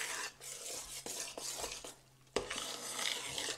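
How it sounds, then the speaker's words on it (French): A spoon or spatula gently stirs a strawberry cream mixture in a bowl, producing soft scraping and swishing strokes in a steady rhythm close up, with a few louder knocks against the bowl and no talking. "Donc je mélange comme avec une mousse, hein."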